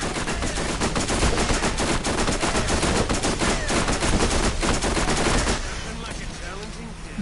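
Rapid automatic gunfire in the Borderlands video game, a dense, loud, continuous stream of shots lasting several seconds before cutting off, followed by quieter game sounds.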